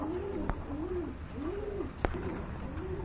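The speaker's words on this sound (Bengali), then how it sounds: "এখানে কিন্তু দেখতে পাচ্ছেন এক জোড়া আর্চেঞ্জেল কবুতর" A pair of Archangel pigeons coo in a steady, rolling rhythm, close by, with a couple of sharp clicks in between.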